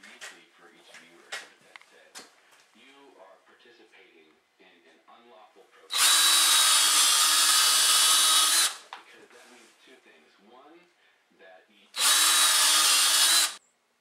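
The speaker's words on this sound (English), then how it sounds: "drill some more holes" Power drill boring holes in a snowmobile track, two loud sustained bursts of several seconds each, separated by quieter handling noises and someone talking.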